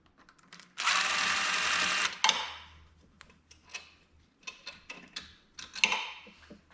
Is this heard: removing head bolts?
yes